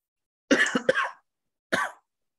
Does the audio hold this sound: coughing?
yes